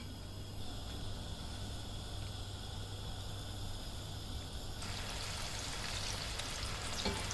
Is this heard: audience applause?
no